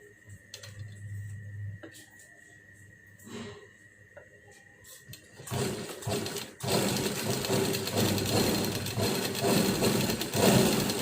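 A sewing machine stitches the back seam of a summer coat, quiet ticking and handling noises first, then a loud, continuous rapid clatter of the needle running close by.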